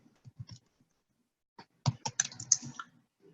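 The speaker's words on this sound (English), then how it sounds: "So I'll just type in my email." Someone types an email address on a computer keyboard while signing in to a real-estate CRM, giving a short scatter of close, quiet key clicks, then a denser burst of faster keystrokes with no talking.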